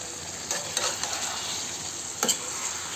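Chicken meat sizzles and fries in a pan while being stirred, a steady hiss with a few scraping stirs, the loudest just past the two-second mark.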